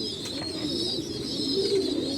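Racing pigeons coo steadily close by, soft throaty calls layered over a continuous high chirping and a faint background hum, with no talking.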